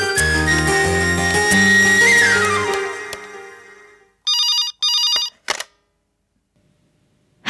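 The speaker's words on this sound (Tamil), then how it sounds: "நான் சாந்தியாக்கு ஃபோன் பண்றேன்." An indoor telephone ringing in a Tamil TV serial: a few loud electronic ring bursts after fading background music, then a pause into silence.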